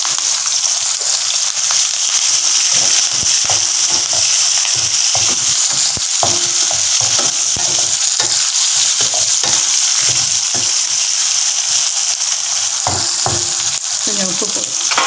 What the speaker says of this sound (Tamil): வெங்காயம், பூண்டு, பச்சை மிளகாய், கருவேப்பிலை எல்லாத்தையும் ஒன்றா போடுவோம்